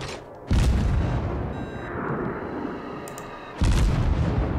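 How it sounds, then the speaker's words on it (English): Incoming battleship gunfire in the naval combat game World of Warships: two heavy, rumbling booms about three seconds apart, each followed by a sustained low roar, with no talking. "Is that incoming battleship fire?"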